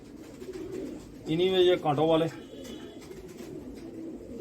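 Pigeons at a Tonk breeding loft give one close, throaty coo lasting about a second, sandwiched between someone talking in Hindi before and after.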